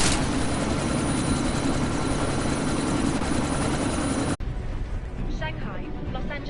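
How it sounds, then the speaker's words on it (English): A helicopter in a video game roars as a loud, dense rotor-and-engine wash that cuts off abruptly partway through, leaving quieter ambience with faint talk. "you need to disable that chopper"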